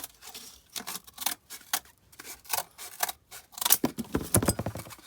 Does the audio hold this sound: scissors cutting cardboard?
yes